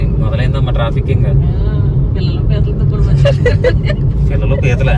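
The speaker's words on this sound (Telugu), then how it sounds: "అదే ఇంక మొదలైందమ్మా ట్రాఫిక్." Road traffic on the Hyderabad to Tanuku highway during the Sankranti rush produces a continuous low engine rumble from cars and buses, heard from inside a moving car under nearby talking.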